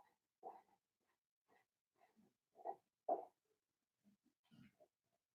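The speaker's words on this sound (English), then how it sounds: "That's my dog, if you hear that." A dog makes faint snorting, grunting and huffing noises indoors in short scattered bursts, quiet and close, with no voices during them.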